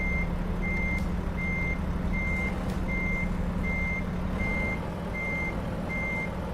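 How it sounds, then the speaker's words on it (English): Reverse warning beeps from a truck in American Truck Simulator, evenly spaced tones repeating about twice a second over a low diesel engine rumble, with no talking. "Oh, is it a collision warning?"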